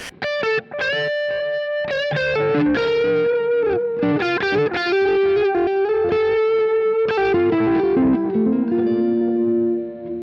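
Distorted electric guitar through a Chase Bliss Audio Tonal Recall delay pedal playing a slow melodic line, each note echoing with repeating delay trails and a long ringing tail.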